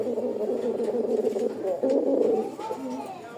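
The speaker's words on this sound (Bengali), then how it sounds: "মানে কুমকুম করে পুরান জাতের কবুতরের মতো ডাকে।" A male Rajgolla pigeon coos nearby in a deep, rolling, repeated old-breed style call, the phrases running together steadily for a few seconds.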